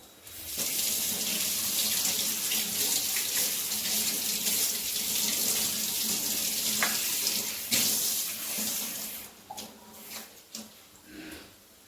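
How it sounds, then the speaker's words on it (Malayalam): Tamarind pieces are rinsed under a running kitchen tap as part of making a roasted-coconut fish curry, with a steady stream splashing into the sink and breaking into irregular splashes and handling noises near the end. "ഇത് നന്നായി കഴുകി നമുക്ക് വെള്ളത്തിലിടാം."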